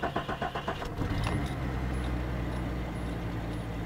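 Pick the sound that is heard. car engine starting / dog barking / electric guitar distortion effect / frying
car engine starting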